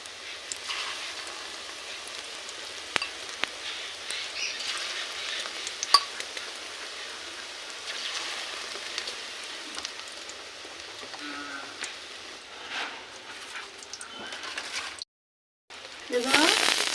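Small drops of egg pakora batter fry in hot oil with a continuous close crackle and scattered pops, briefly cutting out near the end before resuming.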